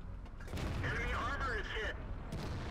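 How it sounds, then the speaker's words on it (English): Tank cannon rounds striking a T95 tank destroyer in World of Tanks, a dense rumble of gunfire and impacts over steady game noise, with a voice talking throughout. "SP putting shots into the side of the T95 now"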